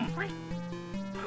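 A video game duck gives a series of nasal, tonal quacks in a quick irregular rhythm, fairly quiet and clear against a faint background.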